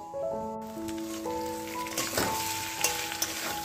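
Chicken sautés in a pan, a steady moderate sizzle with some stirring clatter, while sustained musical tones play over it.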